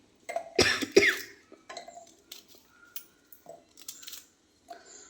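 Close coughing triggered by chili fumes while roasting chilies and coconut for a Kerala chutney, with a couple of loud coughs early on followed by softer clinks and small kitchen knocks.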